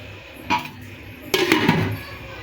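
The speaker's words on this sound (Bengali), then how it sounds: "এখন আমি ঢাকনা দিয়ে ঢেকে 10 মিনিটের জন্য নামিয়ে রাখবো।" A metal lid clanks onto a pot of biryani, then the pot is set down with a second clatter of cookware, two distinct bright knocks in a quiet home kitchen.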